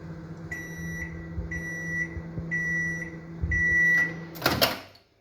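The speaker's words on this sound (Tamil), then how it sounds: "மைக்ரோவேவ் போட்டுட்டு 1 மினிட்ல செட் பண்ணி ஸ்டார்ட் பண்ணி குக் போடுறேன்" A microwave oven set to one minute hums steadily while beeping in regular repeated tones, then a sharp clatter near the end as the hum dies away.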